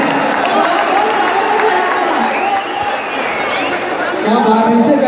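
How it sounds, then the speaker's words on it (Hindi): A stadium crowd cheers and applauds to welcome Bhojpuri stars at a large outdoor show, a loud, dense, sustained roar with shouts and whoops throughout and voices over a PA mixed in. "उनके स्वागत में एक जोरदार तालियां हमारे इस स्टेडियम से।"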